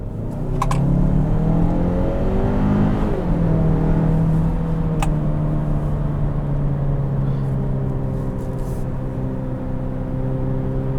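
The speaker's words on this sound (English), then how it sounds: "and we'll get on the throttle" A 2021 Kia Sorento SX Turbo accelerates hard on the highway, its engine note rising steadily in pitch with a loud, continuous whir and road rumble heard from inside the cabin, with no talking.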